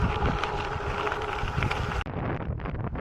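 Strong wind roars steadily across the microphone, loud and buffeting, easing slightly near the end, during a gravel cycling event in Talavera, Nueva Ecija.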